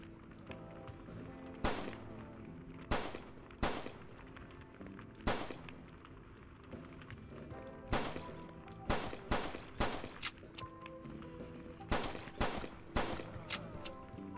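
Gunfire rings out in the video game Outbreak: The New Nightmare. Sharp, separate shots come in uneven bursts, with several quick clusters of two or three rounds between pauses over a low background drone.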